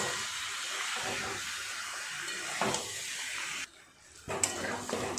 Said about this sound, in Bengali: আলু দিয়ে মাংসের সাথে আরও ভালো করে বেশ কিছুক্ষণ কষাবো